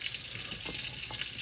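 Warm tap water runs from a faucet over eggs in a kitchen sink, a steady close hiss and splash that holds without a break.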